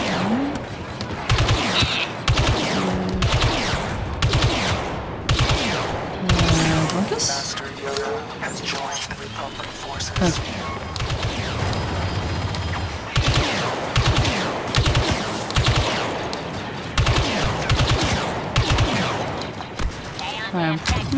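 Gunfire from a tank-focused online multiplayer shooter, with dense bursts of shots and explosions continuing throughout and a player talking over the loud battle.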